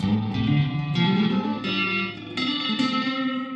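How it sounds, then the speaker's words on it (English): Klemt Echolette NG51 tube echo and reverb unit with the regeneration knob pulled out, producing a loud, sustained, warbling tone with repeating echoes that shifts in steps every second or so, with no talking. "This thing's got what they call reverb."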